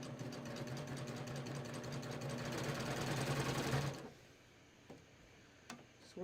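A cover hem sewing machine stitches a tee hem in a fast, loud, even mechanical run for about four seconds, then stops, leaving quiet with a few faint clicks.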